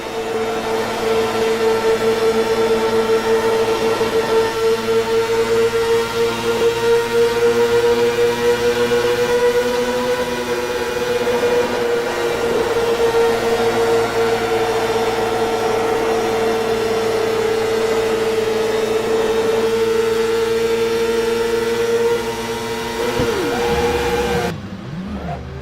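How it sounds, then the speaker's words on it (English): Engine of a 1990s CART race car with a Swift chassis and Ford Cosworth engine, in the Automobilista sim racing game. A loud, steady high-pitched drone runs near-continuously, with pitch shifting through gear changes, and there is no talk. "I'll let you listen to some of the engine sounds here for a few seconds"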